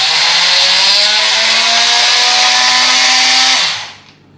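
A Milwaukee M12 brushed cordless multi tool runs at a high, steady, buzzing whine for several seconds and then spins down abruptly to silence, loud and close.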